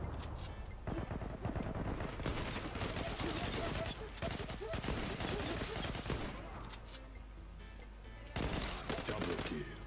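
Bursts of automatic gunfire and rapid shots from the Zula online shooter game, loud and repeated in clusters across the whole stretch, with a brief lull near the middle, while a player talks over the action.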